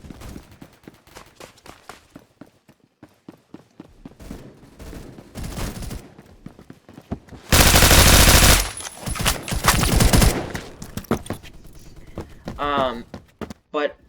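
Suppressed Honey Badger rifle in a video game firing in rapid bursts of muffled shots, with one long sustained loud burst in the middle and shorter volleys around it, close and dominant.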